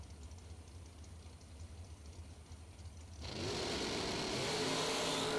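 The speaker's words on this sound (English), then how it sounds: "ripping the throttle all the way down the track" Drag racing cars launch down the track with a sudden loud engine roar that surges about three seconds in, after a low idling rumble, then holds as a steady, dense, high-revving blare.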